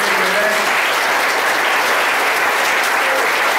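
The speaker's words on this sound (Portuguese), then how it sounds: "Você pode aplaudir o Senhor de uma maneira maravilhosa." A church congregation breaks into loud, sustained applause during a worship service, a dense and even roar of many clapping hands with no break.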